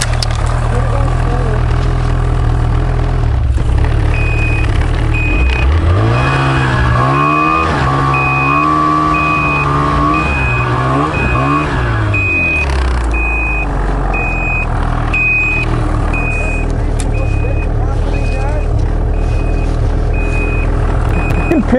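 Ski-Doo snowmobile stuck in snow among trees, engine revving up and down loudly while a reverse alarm beeps in a steady repeating rhythm, with voices faintly under the noise.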